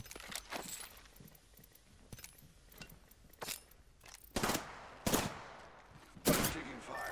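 Bursts of video game gunfire in a squad shooter, several short volleys spread through the clip with louder, nearer rapid shots toward the end.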